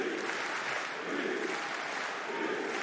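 A French crowd at a PFL welterweight MMA fight roars and chants in support of fighter Belghazi, a dense, steady wash of massed voices filling the arena without a break.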